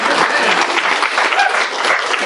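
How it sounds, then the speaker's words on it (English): An audience applauds a speaker at a talk on interfaith topics, giving a loud, thick wash of clapping that holds steady from start to finish. "Yes, you can applaud me."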